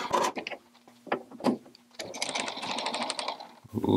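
A metal lathe parts off a cast metal part after a brief run of knocks and clicks, then settles into a steady close grinding cut that carries on for about two seconds.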